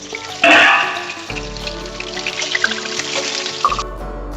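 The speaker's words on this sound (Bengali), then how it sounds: "আলুগুলো ভেজে নেব।" Potatoes frying in hot mustard oil, a loud burst of sizzle as they go into the pan, then a steady crackling fry with scattered pops and a second louder surge near the end.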